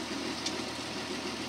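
A tractor engine runs with a harrow hitched behind it, a quiet, even, low droning hum heard from inside the cab with no change in pace.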